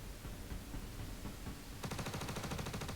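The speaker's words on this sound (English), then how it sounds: "you can hear the gunfire" Rapid automatic gunfire in the sci-fi shooter Star Citizen, a steady noisy wash that turns into a dense, evenly spaced burst of shots in the last second, fairly loud and without speech.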